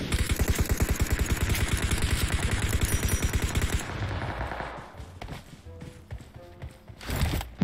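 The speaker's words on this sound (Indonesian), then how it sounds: "Tembakan." Gunfire in the battle-royale game PUBG Mobile: a rapid automatic burst of close, loud shots for several seconds, then scattered fainter shots and game noise.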